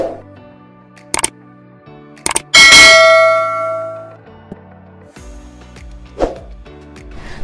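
Bright metallic bell ding as a subscribe-icon sound effect, one sustained ringing tone that decays over about two seconds, preceded by short clicks and taps.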